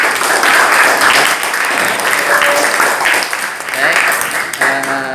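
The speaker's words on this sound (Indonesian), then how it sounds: "Oke, tepuk tangan semuanya." A class of sixth-grade elementary students applauds after a classroom debate on modernisation, sustained loud clapping in a room with children's voices mixed in.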